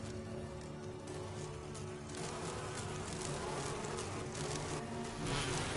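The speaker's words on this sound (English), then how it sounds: "Fucking bees, dude." Bees swarm in Resident Evil with a dense, steady buzzing that fills the whole stretch, loud and close, and grows slightly stronger toward the end without any voices over it.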